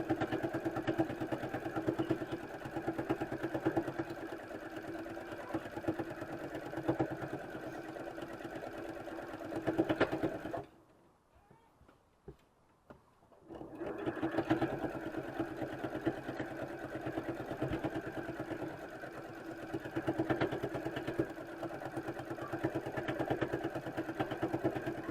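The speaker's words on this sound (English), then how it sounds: "my machine gets a little noisy right through there" A domestic sewing machine stitches through fabric and batting for a baby burp cloth, running with a steady fast mechanical whir, pausing briefly midway, then resuming at the same loud close pace.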